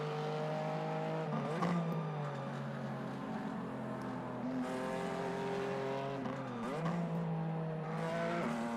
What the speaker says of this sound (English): we don't want to scrub the tires like that